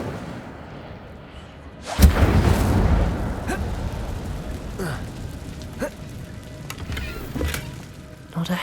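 The Incendio fire spell erupts in Hogwarts Legacy with a sudden loud roaring whoosh, then fades into scattered crackles and sharp pops over a low background rumble.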